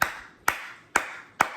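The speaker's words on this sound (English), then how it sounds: "I'm clapping at that shit." Four single hand claps, sharp and close, spaced evenly about half a second apart, each with a brief ringing decay and nothing else around them.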